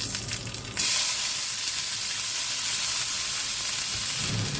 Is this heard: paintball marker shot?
no